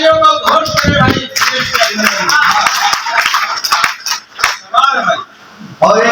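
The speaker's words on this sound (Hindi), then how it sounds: "एक बार दोनों हाथ ऊपर उठाकर तालियों का घोष करें भाई।" Crowd at a Hindi poetry gathering claps with hands raised, bursts of sharp, uneven clapping mixed with loud chanting voices, rising and falling across several seconds.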